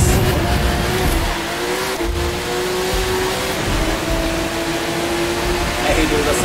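Car engine revving and accelerating in the racing video game The Crew 2, a steady engine drone with shifting pitch under a voice talking over it.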